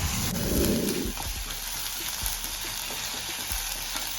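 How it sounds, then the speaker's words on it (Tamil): Pieces of tapioca (cassava) fry in hot oil with curry leaves, giving a close, crackling sizzle that bursts loudly at first and then settles into a quieter, steady bubbling with occasional soft pops and stirring knocks. "அந்த இருக்கிற ஆயிலில் வந்து அந்த மரவள்ளி கிழங்கு ஃப்ரை ஆகிற வரைக்கும் ஒரு 1 மினிட் வெயிட் பண்ணணும்"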